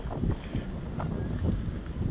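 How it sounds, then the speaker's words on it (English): Gusty wind buffeting the microphone with low rumbling blasts at Halifax railway station, loud and uneven, with faint background noise and no speech. "It is quite windy."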